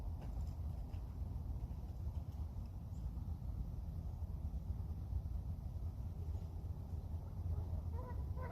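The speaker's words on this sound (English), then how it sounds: "We got geese over here just hanging about" Geese honk at an Albuquerque open space during a walk, their calls thin and fairly distant beneath steady low wind rumble across the whole stretch.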